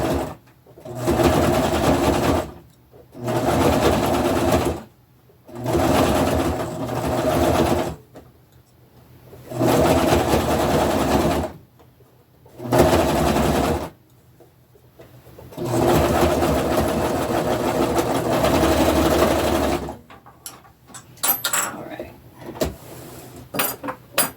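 A sewing machine stitches an upcycled braided rug in about six loud, close bursts of rapid mechanical whirring with short pauses between them, ending with light clattering handling sounds.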